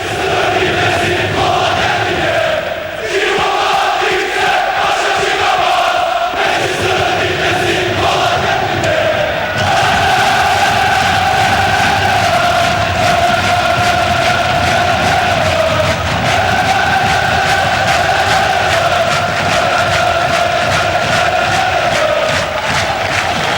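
A packed football stadium crowd at a Manchester United match in the 1994/95 season roars loudly and continuously, a dense wall of chanting and cheering that surges after the first few seconds.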